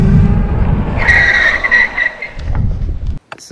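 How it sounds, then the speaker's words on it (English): A Zooz Ultra Urban Gen 4 electric bike braking hard from about 20 mph, a loud, close tire skid that squeals for a few seconds before cutting off abruptly, with a short voice at the end. "Alright, here we go. Brake test."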